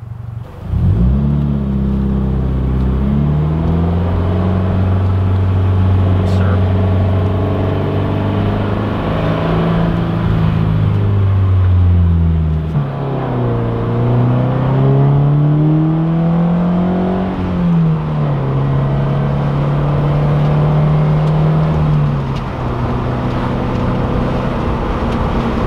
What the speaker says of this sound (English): just try to listen to the exhaust note